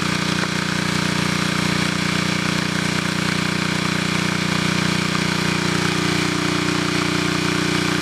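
An engine idles steadily through an automated run outdoors at night, a constant low hum with an even drone and no change in pace, heard alone without talk.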